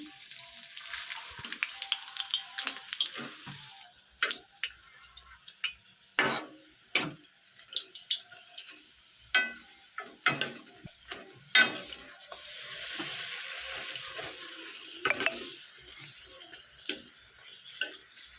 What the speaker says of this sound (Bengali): একে একে এভাবে লুচিগুলো আমি সুন্দর করে ভেজে নিই